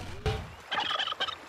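A cartoon pony character's voice imitates a chicken, a short squawk followed by a rapid burst of warbling, gobbling clucks, close and fairly loud with nothing else around it.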